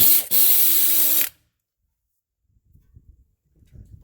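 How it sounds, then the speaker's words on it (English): A pneumatic air ratchet tightens brake caliper bolts on a 2011 Acura MDX: one close, loud whirring burst of a little over a second with a brief stutter near its start, then near silence with faint clicks and handling noise. "I'm going to use my air gun. Ratchet rather. Tighten these up."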